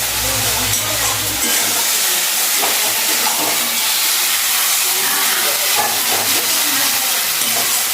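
Spice paste for a country chicken curry frying in a hot pan, a loud, continuous crackling sizzle with faint stirring scrapes throughout.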